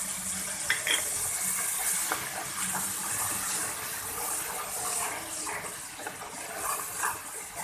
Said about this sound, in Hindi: ड्राई मसाले डालने से पहले 1 टेबल स्पून के करीब इसमें मैं पानी डालूंगी थोड़ा सा